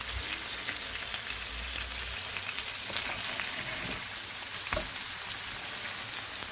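Hamburger patties frying in coconut oil in a pan, a steady, even sizzle and crackle with occasional louder pops, no voices.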